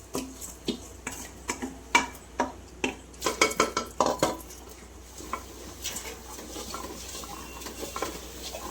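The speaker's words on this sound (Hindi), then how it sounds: "चावल डाल के अच्छा मिला ले रही हूँ उसको।" A spoon stirs washed rice and lentils into khichdi in a metal pot, quick clinking scrapes and taps in an uneven rhythm that slows and softens toward the end, close and without speech.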